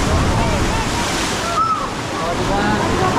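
Surf crashing against the shore on Boracay island, a steady, loud roar of breaking waves with wind rushing across the microphone and no pause in the wash of water.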